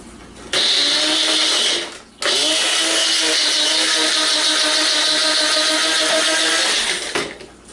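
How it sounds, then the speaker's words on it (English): Electric spice grinder whirring loudly as it grinds iguana food mixed with supplements, a steady high motor whine in two bursts with a short pause between, close up and alone. "put it in this spice grinder, and grind it up"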